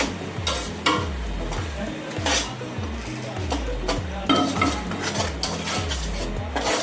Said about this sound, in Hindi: अगर आप मुसलसल इस तरह चमचा चलाते रहेंगे तो इस तरह गुठलियाँ नहीं बनेंगी।